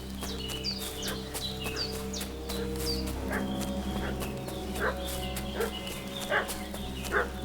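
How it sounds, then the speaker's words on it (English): A dog in the medieval video game Kingdom Come: Deliverance II barks in a fussy, repeated way at middle distance. The barks fall over a steady background drone, with birdsong chirping throughout. "What's that dog making such a fuss about?"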